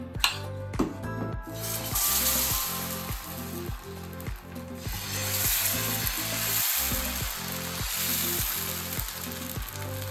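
Dhinde batter mixed with ginger-garlic paste fries on a hot griddle, giving a steady, close sizzle with a rhythmic, thumping beat running beneath it.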